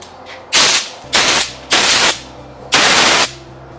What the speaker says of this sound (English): I'm getting some sawdust on that, so I'm gonna go ahead and blow this off.